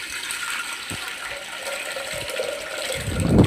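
Water is poured over 1.5 glasses of washed lentils for tomato dal, a steady broadband gush that swells louder near the end, close up and without voices.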